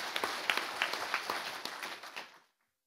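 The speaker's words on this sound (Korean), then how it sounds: "박수 부탁합니다." Applause from a small audience at a National Assembly forum on forced labor and Korea-Japan relations, a few distinct claps amid moderate patter, fading out after about two and a half seconds.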